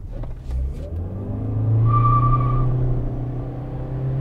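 A 2024 Toyota Corolla Hybrid accelerating, its engine note rising into a steady loud drone with a whining tone, heard from inside the car without talk.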